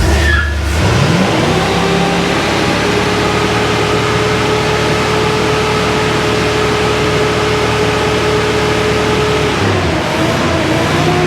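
A 1975 Bricklin SV-1 engine cranks and catches in the first second, then settles into a loud, steady high idle held for about nine seconds before the revs drop near the end, close and continuous with no talk.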